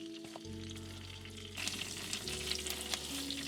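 Butter melting in a pan with sprigs of fresh thyme, giving a steady close sizzle and frying crackle that grows busier partway through, with no voices.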